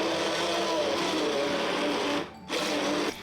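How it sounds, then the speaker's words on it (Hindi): A hand blender churns cooked lentils for haleem in a home kitchen, a steady close whirring motor drone that cuts out briefly near the end and then resumes. "दालों को मैं हैंड ब्लेंडर की मदद से मिक्स कर रही हूँ।"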